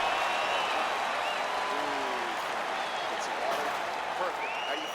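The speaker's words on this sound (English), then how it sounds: "the crowd voicing its appreciation after that crazy sequence in the previous round" Arena crowd in EA Sports UFC 4 applauding and cheering between rounds of a fight, a steady, loud wash of clapping and crowd noise that holds for the whole stretch without letting up.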